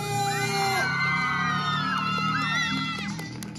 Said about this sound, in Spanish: Aplauso, gritos y bullas, si creen que se lo lleva la chica de rojo.